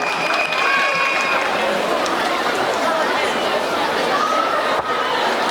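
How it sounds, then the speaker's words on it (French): A school audience at a contradictory debate event applauds, loud sustained clapping mixed with crowd chatter and cheering voices filling the hall throughout. "Est-ce qu'on peut applaudir pour Satia Roubakare?"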